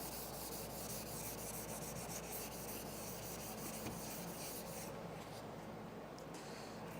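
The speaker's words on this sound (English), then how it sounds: "I'm going to keep sanding until I see, you can see the areas that still have that old coating on them" Sandpaper rubs back and forth over a car headlight lens to remove old cloudy coating, a close, continuous scratchy rasping that eases slightly near the end.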